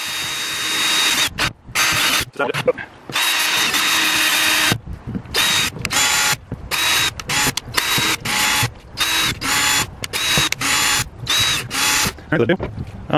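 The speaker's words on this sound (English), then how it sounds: "got our drill. I want to start by putting 8 to 10 holes in the top or bottom." A power drill bores holes into a plastic compost tub in repeated loud bursts, whirring up and cutting out with short pauses between each hole.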